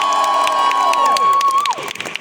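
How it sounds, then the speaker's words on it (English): Loud massed cheering and shouting for London rings through a FIRST Tech Challenge UK Championship opening ceremony, a long piercing squeal held over the crowd roar before it dips and fades into scattered claps and calls. "can I get a massive cheer for London?"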